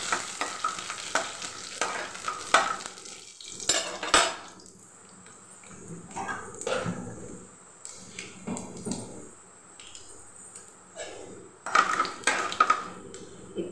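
Urad dal fries in hot oil in a pan for aval upma. A soft, steady sizzle sits under intermittent stirring, with a utensil clinking and scraping against the pan up close and no speech.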